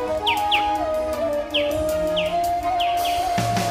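Birds call near a lithium mine site outdoors: several quick descending chirps repeat across a few seconds, clear and fairly close, over a faint steady hum, with a brief low rumble near the end.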